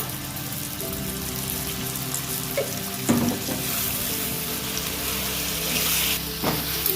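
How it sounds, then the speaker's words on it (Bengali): A ground mustard paste fries in a pan, giving a low, fairly soft sizzle over a steady background hum. A few louder scrapes or spatters stand out now and then. "এবার মশলাটা ভাজা হয়ে গেছে"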